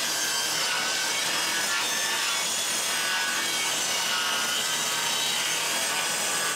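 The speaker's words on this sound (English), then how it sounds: "cut some strips out of some 2x4s to make some spacers for the new insulation" A handsaw cuts strips from 2x4 lumber for ceiling insulation spacers at a cottage, a steady, loud, continuous rasping stroke with no pauses and no voices.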